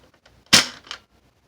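A Nerf toy blaster fires a single foam dart: one sharp, loud pop-thwack up close with a short softer follow-up click, set against near silence.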